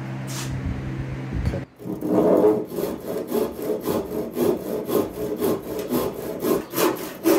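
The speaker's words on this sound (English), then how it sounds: "It was a little too long, so I'll just use a handsaw." A handsaw cuts through a 2x4 board at a workbench, its steady back-and-forth strokes close and clear after a brief noise at the start, with no talking.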